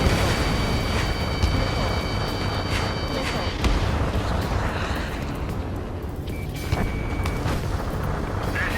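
A target is destroyed in the Ace Combat 7 flight game, heard as a booming explosion with rumbling blasts and thuds mixed into dense game audio, with radio chatter voices running alongside.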